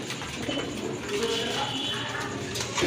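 Racing homer and Giribaz pigeons coo softly amid a dense background hubbub of birds and rustling, fairly close and continuous.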